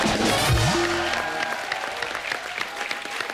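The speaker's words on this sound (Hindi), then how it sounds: "जोरदार तालियां।" Loud applause from a television comedy show's studio audience greeting arriving guests, sustained clapping with a brief sweeping musical sting at the start.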